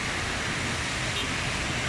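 Heavy rain falls in Makkah, Saudi Arabia, a dense, steady roaring hiss of downpour close to the microphone, loud and unbroken from start to end.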